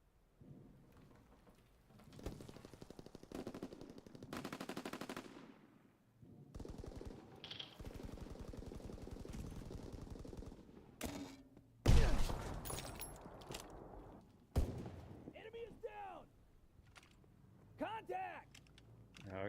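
Suppressing gunfire in a video game: sustained rattling automatic bursts with heavy booming impacts and rumbling, layered with other in-game effects and chirping tones, loud and continuous.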